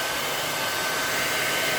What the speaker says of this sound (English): dryer set on hot